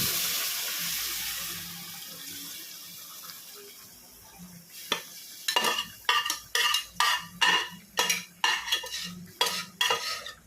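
Cooked mutton being tipped into a pan for mutton chukka, then stirred with a utensil: a quiet start gives way to a series of sharp, regular scraping and clattering strokes against the pan, close and fairly loud, with no talking.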